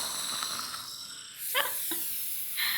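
A dog snoring in a children's story, a soft hissing breath repeated a few times against a steady noisy background, with no talking.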